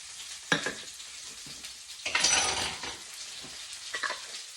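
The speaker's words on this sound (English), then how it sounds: "And now you're just going to mix it real well." A sriracha garlic glaze being stirred in a bowl, giving soft scraping and swishing strokes in short bursts, fairly close and quiet, with no talking.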